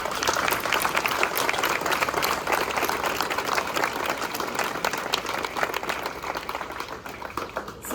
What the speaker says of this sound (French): Je vous propose, non pas de m'applaudir, mais de les applaudir